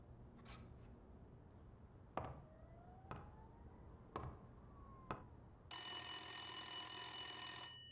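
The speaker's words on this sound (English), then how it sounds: "Again with the loud phones." A telephone rings in the Blacksad: Under the Skin video game, a loud, continuous electric bell that starts abruptly and runs for about two seconds after several sharp knocking thuds, with no talk over it.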